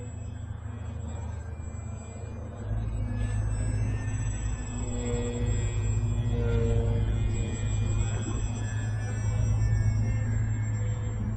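Electric motor of a Cessna 182 Plus 1200mm EPO RC plane winding back up from a windmilling prop, a steady droning whine that rises and holds louder after a couple of seconds, heard continuously in flight.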